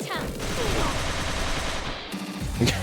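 Gunfire from the video game Yakuza: Like a Dragon, a dense, continuous clatter of shots and effects with game voices mixed in, cutting off abruptly near the end.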